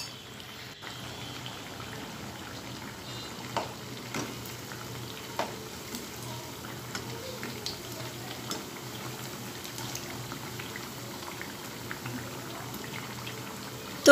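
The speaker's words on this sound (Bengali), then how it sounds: "আর উল্টিয়ে পাল্টিয়ে এভাবে আমি সুন্দর একটা কালার আসা পর্যন্ত এই বড়াগুলো ভেজে নেব" Taro fritters (kochur bora) fry in hot oil with a steady, soft sizzle and scattered little pops and crackles, continuous and fairly faint throughout, with an occasional clink near the end.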